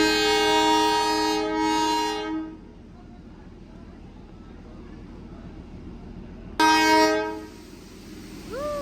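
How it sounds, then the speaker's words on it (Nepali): The Darjeeling toy train sounds a loud, sustained horn blast, falls quiet amid low background rumble, then blasts the horn again, close by, as it starts to move. "टोय ट्रेन अब हिँड्न लागेको छ।"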